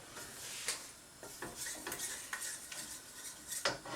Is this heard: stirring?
yes